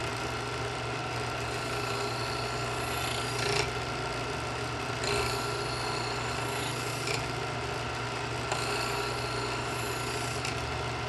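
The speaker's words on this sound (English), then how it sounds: "you want to move to the ceramic slot to finish the edge and polish the edge" Steady rasping of a knife blade drawn through the ceramic finishing slot of a Smith's Adjustable Edge Pro electric knife sharpener, a continuous motor-backed grinding hiss with slight surges at each new stroke.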